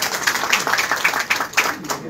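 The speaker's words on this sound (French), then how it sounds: "Applaudissez pour eux, je vous applaudis." An audience at a formal presentation of a delegation claps in a steady patter of many hands, fairly close and continuous, with a voice speaking over it.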